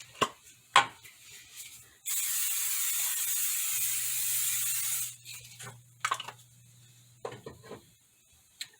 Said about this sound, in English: Okay, we're also going to spray our pan.